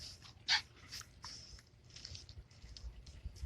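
A dog pants close by in a quiet indoor space, with soft rapid breaths, small patters and one sharper burst near the start, no talk over it.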